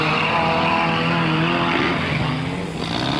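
Trials car at a muddy competition course, rear wheels spinning in thick, slippery mud, with a loud, steady engine roar held close and continuous.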